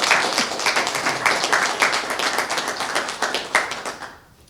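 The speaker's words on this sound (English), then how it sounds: "let's give them a hand clap" A city meeting audience claps hands, a lively run of sharp, uneven claps that pulses for several seconds and then tapers off quickly at the end.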